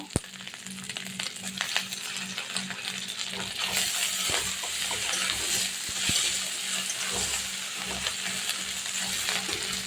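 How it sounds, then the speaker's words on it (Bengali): Garlic paste and onions are stirred in a frying pan, giving a continuous sizzle and frying hiss with scraping and occasional clinks of the utensil against the pan, close and steady. "দিয়ে দেবো রসুন বাটা, একটু পেঁয়াজের সাথে নেড়ে চেড়ে নেব"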